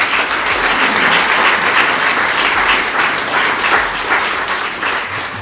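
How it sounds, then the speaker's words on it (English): An audience at a synagogue grand opening ceremony applauds the synagogue's designer, a loud, sustained wash of clapping from a large crowd that holds steady throughout and tapers slightly at the end. "everybody should just give him a huge round of applause"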